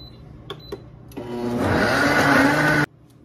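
A short electric grinding burst as lard ingredients for tortillas are ground with a little salt: a few light clicks, then a rising whir for about two seconds that stops abruptly.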